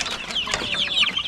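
Chicks cheeping near their mother hen on a small farm, rapid high peeps overlapping in quick succession, fairly close, with a low clucking beneath them.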